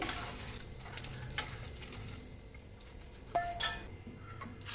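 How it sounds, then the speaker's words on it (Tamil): Sago pearls frying crisply in hot oil for a savoury mixer snack produce a soft, steady sizzle with light crackling and a few faint clinks of a utensil against the pan. "பாருங்கள் எவ்வளோ கிறிஸ்பியாக சவுண்டு கேட்குது"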